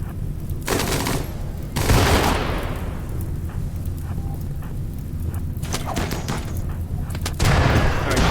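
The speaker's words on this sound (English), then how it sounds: "Frag grenade." A frag grenade explosion in the RimWorld video game, a sharp boom followed by scattered bursts of gunfire and crackling impacts amid an ongoing firefight.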